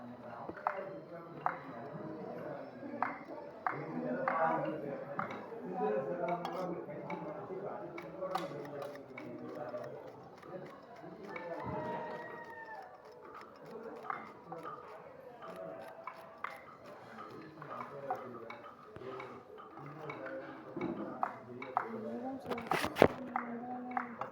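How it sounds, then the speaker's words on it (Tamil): A knife cuts okra (lady's finger) in a busy setting, producing frequent small irregular chopping taps and clicks beneath continuous talking and background voices. "நம்ம வெண்டைக்காய் கட் பண்ணி கொடுக்குறோம்"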